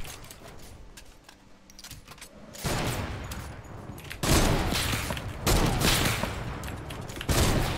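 Fortnite game gunfire strikes the floor in dense rapid bursts, loud and harsh, several sustained volleys growing heavier after a quieter opening stretch.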